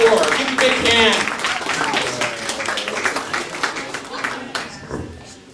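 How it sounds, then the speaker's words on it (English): A comedy showcase audience claps and applauds for a comedian, a dense burst of many hands that gradually thins into scattered claps over several seconds. "Give him a big hand."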